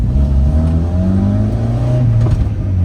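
A Ford Mustang's exhaust revving up close, a loud throaty rumble with rising and falling engine tones across a few seconds.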